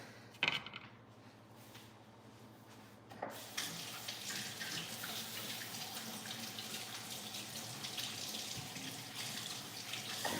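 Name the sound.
water running from a tap while washing hands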